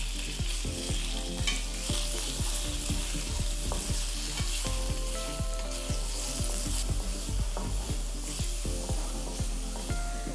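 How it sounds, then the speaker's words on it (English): Steady sizzling and crackling of bacon frying in a pan for spaghetti carbonara, with occasional stirring scrapes, continuous and close, no talking. "So we'll start off by frying our bacon."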